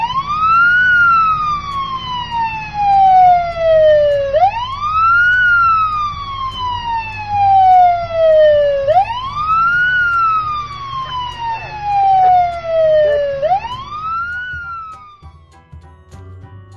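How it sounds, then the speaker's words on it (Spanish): A wailing emergency siren rises and falls in long sweeping cycles, loud and continuous with no other sound over it. "el sonido de una sirena"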